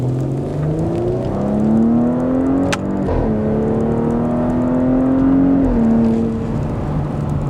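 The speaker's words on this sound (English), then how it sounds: "I think it's time to do a little acceleration maybe" A 2020 Porsche Cayenne Coupe pulling onto a main road accelerates hard, engine note climbing steadily through the gears with shift breaks, close and loud from the cabin.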